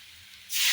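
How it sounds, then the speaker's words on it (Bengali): Water hits a hot pan of fried potato and pointed gourd, bursting into a loud, sudden sizzling hiss that starts halfway through and holds steady to the end. "এখন পরিমাণ মতো দিয়ে দিব ঝুল। ঝুল মতলব জল।"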